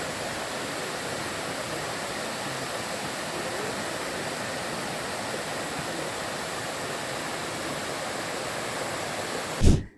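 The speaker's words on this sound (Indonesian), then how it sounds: "melihat pemandangan air terjun di atas sana" A waterfall in Ambon, Maluku, Indonesia roars in a constant, dense rush of falling water, steady throughout before a sudden thump cuts it off.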